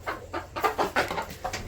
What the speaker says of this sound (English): we got a couple of chickens that hang out in here and lay